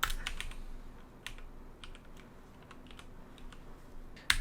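A Google Finance formula typed on a computer keyboard, a quick string of light, close key clicks in uneven bursts with brief pauses, quiet and alone.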